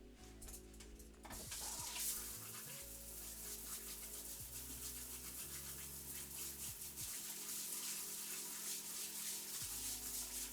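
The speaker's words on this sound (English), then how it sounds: "rinse these off." Tap water runs steadily into a kitchen sink as items are rinsed under it while cooking borscht, a faint continuous splashing hiss with low background hum throughout.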